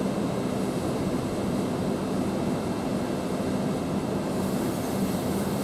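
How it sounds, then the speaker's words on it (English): A London King's Cross to Hull passenger train passing through Grantham railway station, a continuous low rumbling roar that holds steady and fairly loud for the whole stretch, with no voices. "Here's the 1250 Hull train parallel from London King's Cross to Hull."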